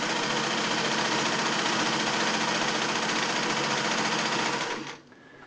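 A Singer 600E sewing machine stitching, its fast, even mechanical whir running loud and steady before slowing and stopping near the end, with no voices.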